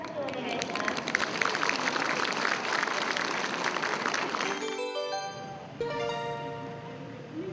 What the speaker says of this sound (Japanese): 会場からは大きな拍手が送られました。